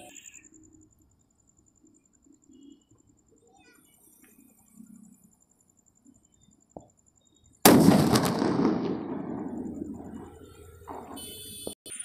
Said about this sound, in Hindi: तो अब हमारे पास ये है डायनासोर वाला सुतली बम, तो इसको जलाते।